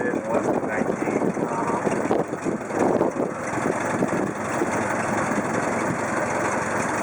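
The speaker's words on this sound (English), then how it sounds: "It's got a 4-cylinder, 20 horsepower engine." A 4-cylinder, 20 hp Ford Model T engine runs steadily during a ride through Greenfield Village, Michigan, a continuous loud mechanical drone with rough low rumble, while people talk over it.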